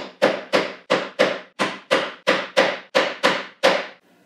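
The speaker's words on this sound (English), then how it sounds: "we could always tap these in with the backside of a ball peen hammer" Ten sharp, evenly spaced taps of the back of a ball peen hammer on brad nails, about three per second, each ringing briefly, with nothing else around them.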